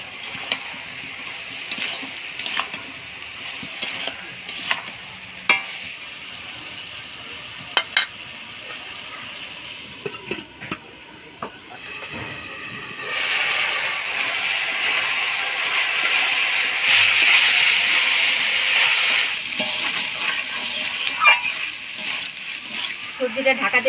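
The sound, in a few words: stirring vegetables with green tomatoes in a pan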